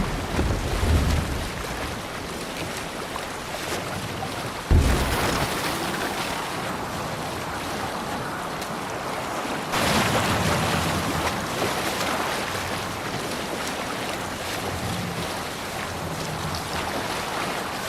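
Sailing ship out on open sea in Assassin's Creed Valhalla, with steady wind rush and rolling waves washing continuously, louder surges partway through, and no voices.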